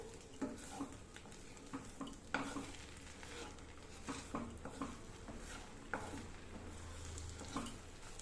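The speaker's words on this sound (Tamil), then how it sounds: "முட்டை நல்லா உதிரி உதிரியாக வர்ற அளவுக்கு நல்லா சேர்த்து விட்டுக்கலாம்" Eggs scramble in a dry kadai over a low flame, with quiet sizzling and repeated spatula scrapes and taps against the pan, faint and close.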